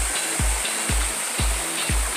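Floodwater rushes in a steady broadband hiss after an overnight flood, overflowing with a lot of water, with regular low thumps about every half second underneath.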